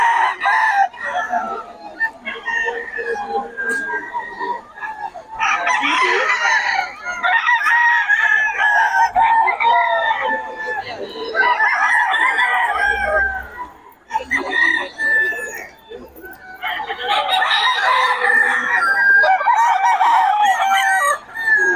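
Roosters at a fowl market in Bocaue crow and cluck repeatedly, several birds close and loud in overlapping bursts with short pauses between, while people talk in the background.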